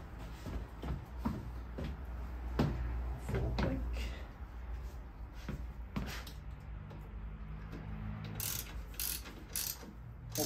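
Ratchet clicking while a Wilbers Nivomat suspension is fitted to a Harley Davidson Street Glide Special, quiet irregular metallic clicks and knocks up close, with a low background hum.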